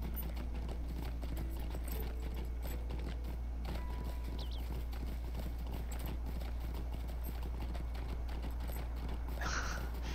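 Horse hooves clip-clop steadily as a mount is ridden in the Lord of the Rings Online video game, a rhythmic run of hoofbeats over a low hum, with brief game sound effects and no talk.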